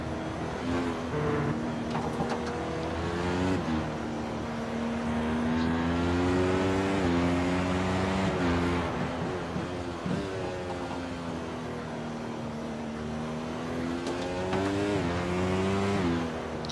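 Race car engine in iRacing at the Belgian Grand Prix, Spa, revs hard through the gears with rising whines cut by shifts and lifts, loud and steady from an onboard perspective.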